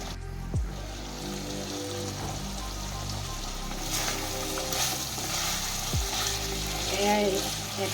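Meat fries in oil in a pan until its water cooks off, a continuous close crackling sizzle with someone speaking over it at moments.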